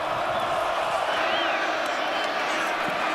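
A big stadium crowd of about 50,000 to 60,000 roars steadily at Arrowhead during a Colorado versus Kansas college football game, a dense, constant wash of cheering with no breaks.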